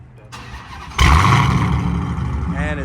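Supercharged Dodge Hellcat Redeye with a catless exhaust and new intake cranks and fires up, the engine catching abruptly into a loud, rumbling idle that holds steady close by.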